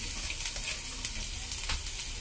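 Chopped onions and green chillies fry in about two tablespoons of oil in a pan, giving a steady, close hiss and crackle with small pops and no talking.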